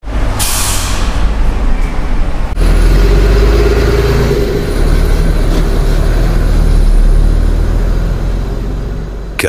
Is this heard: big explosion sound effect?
no